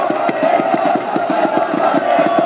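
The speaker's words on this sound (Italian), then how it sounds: "i nostri tifosi si riscaldano ulteriormente" Yellow-and-red football supporters at an away playoff match chant and cheer loudly in unison, with a rhythmic, steady beat of drums or clapping running under the crowd noise.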